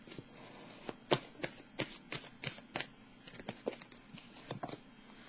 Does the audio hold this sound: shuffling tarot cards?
yes